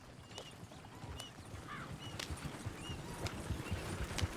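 Faint, steady clip-clop of horse hooves at a walking pace in the video game Red Dead Redemption 2, with a brief whinny in the middle and light background ambience.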